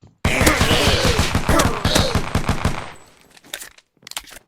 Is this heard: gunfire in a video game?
yes